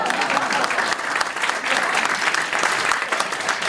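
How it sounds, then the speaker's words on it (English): Audience applause at an entrepreneurship award ceremony in Hong Kong, a dense, steady clapping from a large crowd that fills the whole stretch at an even, loud level. "Yes, you can applaud that."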